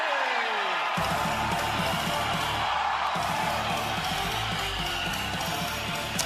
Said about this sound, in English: The crowd went nuts for Ospreay